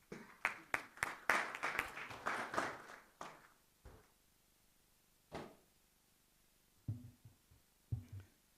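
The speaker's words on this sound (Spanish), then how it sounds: "Lo recibimos con un fuerte aplauso." Scattered clapping at a conference on river transport opens as a brief burst of claps, then thins to a few isolated, fading claps and soft knocks with quiet gaps between them.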